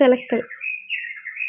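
Morning birdsong outdoors: a short squawk opens, followed by a thin, bright chirping call that wavers and continues for over a second, fairly near and alone.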